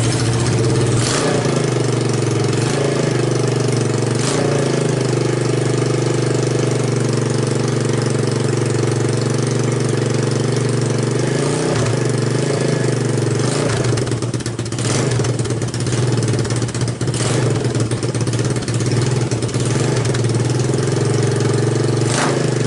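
An ATV engine with a freshly rebuilt carburetor runs steadily at close range, a loud, continuous mechanical drone that holds a rough idle with brief throttle blips and surging revs, with no voices over it.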